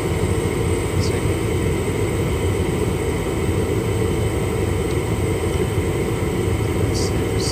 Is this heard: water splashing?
no